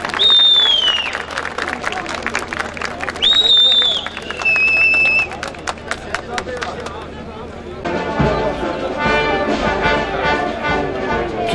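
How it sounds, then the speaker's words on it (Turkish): Audience applause for the Turkish Land Forces Command military band at a Haymana centenary event: whistle-like tones and scattered claps give way to a dense, steady burst of clapping that fills the final seconds. "Bir alkış daha rica edebilir miyim sizden?"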